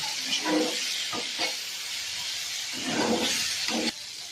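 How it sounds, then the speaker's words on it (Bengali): Spices, chili and sugar sautéed and stirred in a hot pan, a steady sizzle with scraping stir strokes that come in short bursts, close and moderately loud, no talking. "সব কিছু দেওয়ার পর ভালোভাবে কষিয়ে নিতে হবে।"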